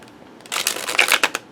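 A thick-cardstock Brady tarot deck being riffle shuffled, giving a quick burst of crisp, close card flutters and slaps that lasts about a second, with no talk over it.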